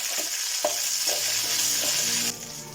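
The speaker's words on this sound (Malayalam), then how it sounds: "കറിവേപ്പില ഒന്ന് ഫ്രൈ ആവട്ടെ" Curry leaves crackle and fry in hot oil for a lemon pickle, producing a loud, dense, close sizzle with light spattering pops and a few soft stirring taps.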